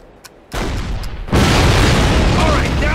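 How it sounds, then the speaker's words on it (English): Cannon fire in Call of Duty (2003), a WWII shooter: a loud boom bursts in, then a heavier blast follows with a sustained rumbling roar, close and powerful. "This cannon's about to go boom."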